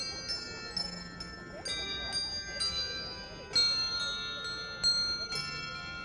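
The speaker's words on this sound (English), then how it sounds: "The bells are just playing softly, holiday music." Bells play holiday music softly at a distance, clear ringing tones striking in a slow melodic sequence over a quiet background with faint murmuring voices.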